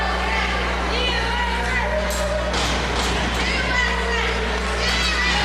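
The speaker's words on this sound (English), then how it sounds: "Crowd getting behind the New Deal here in Cape Girardeau, Missouri at Grudge Night" A crowd at Grudge Night, a fight night held at the National Guard Armory in Cape Girardeau, Missouri, cheers and shouts steadily, with scattered voices and calls rising over a constant low hum.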